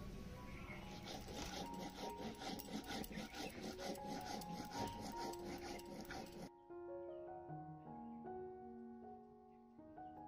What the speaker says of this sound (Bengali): প্রথম জিরে বেটে নেব।